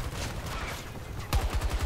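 Gunfire from an M5A3 rifle in the video game Battlefield 2042, a rapid run of low thumping shots after a quiet stretch, with a sharp crack marking the start of the burst.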